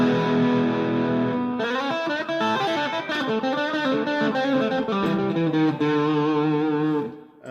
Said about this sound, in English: So here's the bridge pickup with the crunch tones.